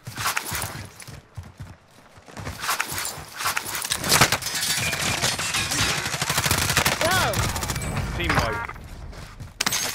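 Call of Duty gunfire crackles in dense bursts through most of the stretch, loud and cluttered, mixed with other game sounds and occasional talk.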